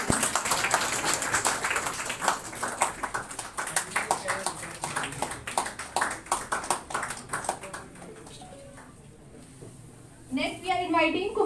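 A seminar audience applauds for judiciary toppers with dense, sustained clapping for several seconds. The clapping fades into a quieter stretch, and a voice speaks near the end.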